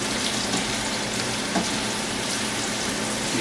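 Garlic and carrots sizzle steadily in a hot pan while being stirred, a dense, constant, close frying hiss with no talking.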